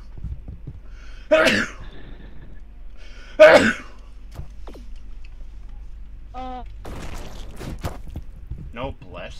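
Two loud, sharp sneezes come a couple of seconds apart, followed by quieter breaths and voices speaking.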